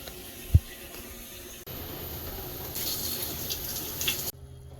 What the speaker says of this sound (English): I just wanted to turn on the faucets up because our gray tanks weren't full